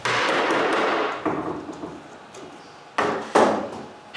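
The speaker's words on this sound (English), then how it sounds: "Next, I add a lot of clamps." Clamps go onto a glued wooden bathroom vanity cabinet, giving a series of close wooden knocks and clattering thumps, with a burst of handling noise at the start and two sharp hits near the end.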